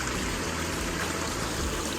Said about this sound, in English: The water running in here